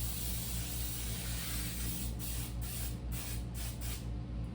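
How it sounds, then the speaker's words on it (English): Cooking spray with flour mixed in, hissed from an aerosol can onto a baking pan for strawberry bread, a steady close spray with several short bursts near the end. "I like to line my pan with some cooking spray"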